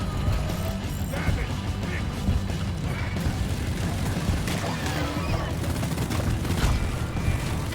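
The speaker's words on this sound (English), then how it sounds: "Just use the Leadstorm to get rid of everything." The Leadstorm minigun in a gunner loadout fires a continuous, loud, rattling stream of shots, with clanking impacts and mechanical chatter throughout.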